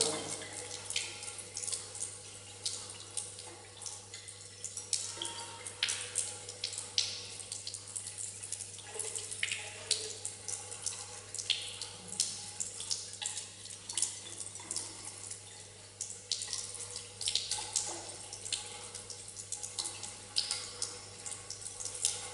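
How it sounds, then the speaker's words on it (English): Tap water runs steadily over a laboratory flask to cool it, a continuous splashing gush with irregular drips and a low steady hum underneath, close and fairly loud with no voices. "So you have to cool it under running tap water."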